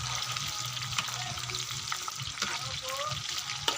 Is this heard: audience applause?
no